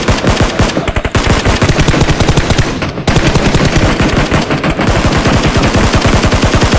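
Sustained loud automatic gunfire in the video game PUBG, rapid evenly spaced shots in long strings with two short breaks, close and dominant.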